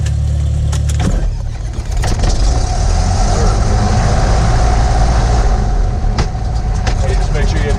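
A small training aircraft's piston engine cranks and coughs on a failed start attempt, a loud low rumble that cuts out abruptly, then churns and sputters unevenly with sharp clunks, close and continuous.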